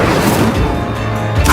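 A fire spell cast in the Hogwarts Legacy video game erupts as a loud, dense burst of crackling, whooshing flame lasting over a second, with a fresh flare at the end.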